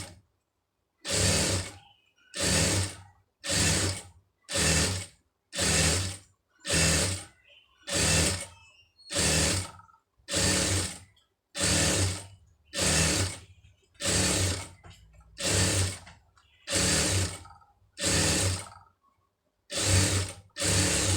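Sewing machine stitching fabric runs in about sixteen short, loud bursts of roughly a second each, separated by brief pauses, close up with a steady mechanical chatter and no voices.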